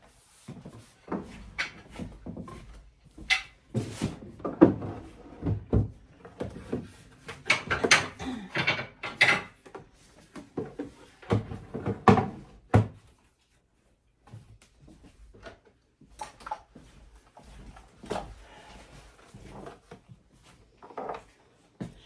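A household drawer opens and shuts through a series of woody slides, bumps and rattles of contents, close by and scattered irregularly, with a few quieter pauses.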